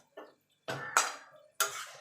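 A spoon mixes ground chili into chicken in a pot for Bengali chicken kosha, giving three short metallic scrapes and clinks separated by silence, close by and fairly soft.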